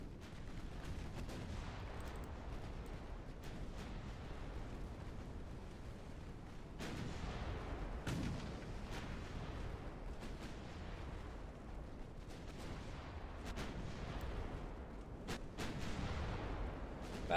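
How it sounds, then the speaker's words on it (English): Heavy naval guns boom from battleships in a naval combat game, a steady rumble of artillery fire with repeated blasts over low, continuous battle noise, loud and dense throughout. "now their battleships are starting to shoot at us as well"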